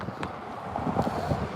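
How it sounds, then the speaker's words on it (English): Strong wind blowing steadily at about 20 miles an hour during an outdoor protest, buffeting the microphone in a continuous rough roar with gusty swells, close and loud. "the wind is constantly blowing at about 20 miles an hour"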